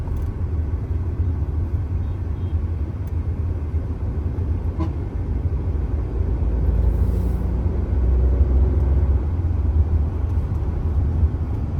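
A Tata Nexon car cruising at 110 km/h, heard from inside the cabin as a steady low road and engine rumble with wind noise, loud and continuous, swelling slightly near the end, with no talk.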